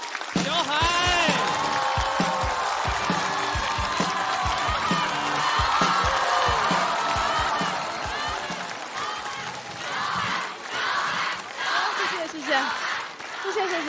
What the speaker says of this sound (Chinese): 掌声欢迎小海